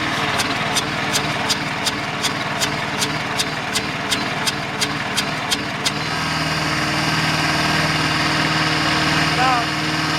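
A 14 hp Amtex Prowler engine and blower run steadily, with a regular series of sharp clicking ticks over the first six seconds before settling into a continuous hum and roar.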